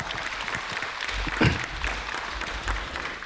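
Applause at a Buddhist alumni association dharma gathering, a moderate steady patter of clapping from the audience lasting a few seconds.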